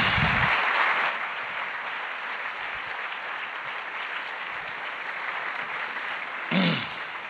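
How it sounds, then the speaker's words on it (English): An audience applauds as a panel on science, faith and religion comes out: steady, sustained clapping filling the hall for several seconds, with a brief voice near the end. "Let's give them a round of applause in advance."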